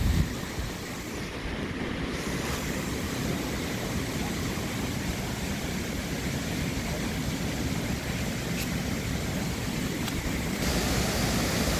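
Steady, dense roar of rushing water at the top of a waterfall, loud and continuous throughout with no talking.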